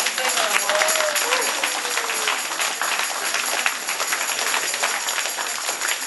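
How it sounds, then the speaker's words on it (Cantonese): An audience claps for the actors after a short comedy skit, a dense, sustained patter of many hands with a voice speaking over it. "多謝晒演員，我哋俾啲掌聲啊"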